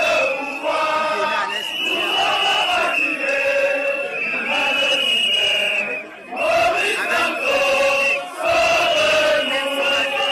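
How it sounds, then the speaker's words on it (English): A large crowd at a Maurice Kamto political rally in Douala chants and shouts in loud, rising waves, with sustained tonal voices and brief dips between surges. "So as you people can see, a very impressive crowd in Douala."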